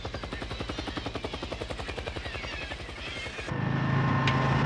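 A helicopter searching for a missing yacht alongside a lifeboat: rapid rotor thumping pulses steadily, then gives way to a louder, smoother engine roar near the end.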